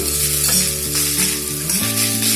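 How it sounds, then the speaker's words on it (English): Vegetables for Hakka noodles stir-fry over high heat, a loud, continuous sizzle with a steady tonal hum beneath, close and alone. "I'll fry it in high heat."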